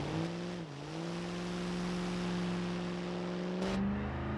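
A 1964 Gavril Bluebuck 353 WSP slows down in a driving game, its engine drone falling in pitch with a brief dip and a shift, steady and close, without speech.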